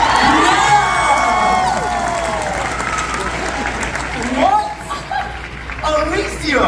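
An audience at a special effects show at Universal Studios Hollywood screams and shrieks together in a loud, sustained burst, then breaks into cheering, laughter and scattered yells.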